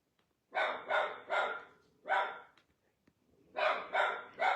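A dog barks in two bursts of three, loud and fairly close, with short pauses between barks and a gap in the middle.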